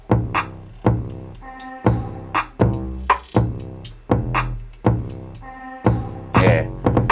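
A trap beat plays with booming kicks, snappy snares and fast ticking hi-hats in a steady, looping pattern, loud and close, with no voices over it.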